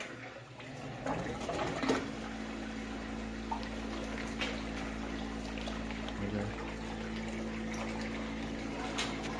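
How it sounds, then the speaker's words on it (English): Fresh water flows steadily through the connected sections of a frag tank, with a continuous trickle over a low pump hum. "the water flows into the second and then flows into the third"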